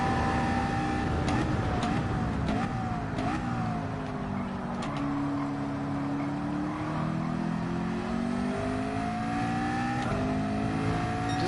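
A race car driven in Gran Turismo during a GT World Series Manufacturer Cup exhibition: a steady engine drone that rises and dips in pitch as the car accelerates and shifts, loud and continuous throughout, with no talking.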